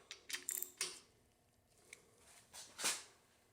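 A wrench works the main cap bolts on a Chevy 4.3 Vortec short block, with quiet ratcheting clicks in short bursts followed by a few isolated metallic ticks, close and faint.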